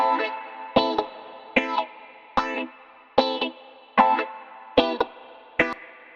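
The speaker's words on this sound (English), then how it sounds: "I want to add a little bit of the reverb just to create that kind of a space effect" A dub reggae mix with reverb for a sense of space: sharp rhythmic chord stabs land about every 0.8 seconds, each leaving a short, spacious, ringing tail that fades before the next hit.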